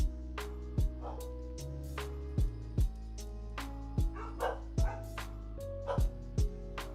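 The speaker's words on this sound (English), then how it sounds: "The dogs are very excited by something at the door." Dogs bark excitedly at the door in a Pokémon HGSS or Emerald video game, short chiptune-like barks repeating in quick uneven bursts over a steady background tone.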